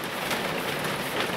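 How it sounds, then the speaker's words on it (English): Steady rain falling outdoors during an unusually wet late-season spell with thunder around, a dense even patter of drops at constant moderate loudness without a break. "we have wave after wave after wave of rain coming this way"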